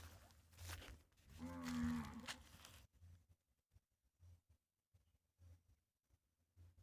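A calf or cow moos close by on a farm, one long drawn-out low call, followed by quieter rustling and soft intermittent thumps.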